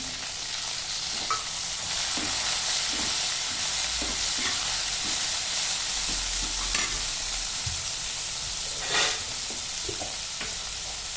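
Chopped tomato frying with onion and ginger-garlic paste for a mushroom curry, a loud steady sizzle with a ladle repeatedly scraping and stirring the pan up close.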